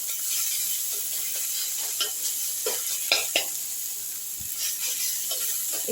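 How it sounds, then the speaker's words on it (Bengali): Ground spices stirred and fried in a kadai for dal with vegetables, with a soft steady sizzle under repeated scraping strokes of a spoon against the pan, close and clear. "একটু গুঁড়ো মশলাগুলো নেড়ে নিচ্ছি"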